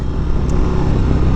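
A 2022 Harley-Davidson Road Glide ST, with its 117 cubic inch Milwaukee-Eight engine and heavy breather air intake, gives a loud, steady, close engine rumble for a brief moment.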